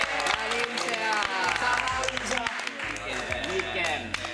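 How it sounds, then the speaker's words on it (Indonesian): Applause and crowd cheering fill the room, mixed with voices talking and a bit of music, steady and fairly loud throughout. "Teman sekali lagi tepuk tangan."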